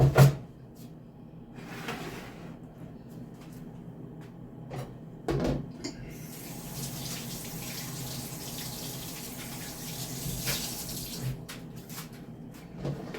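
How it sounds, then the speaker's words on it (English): Kitchen tap water running while hands are washed before seasoning chicken, a soft hissing flow with splashes and a few knocks and clunks near the sink, fairly quiet and with no talking. "Wash my hands"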